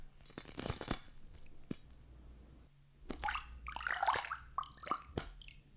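Close, quiet splashing and trickling of water in short bursts as knives cut through an object in AI-generated ASMR, with wet drips and small clinks, pausing briefly before more splashes.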